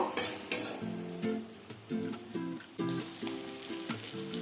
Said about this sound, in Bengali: প্রায় দু থেকে তিন মিনিট সময় নিয়ে এটাকে একটু কষিয়ে নেব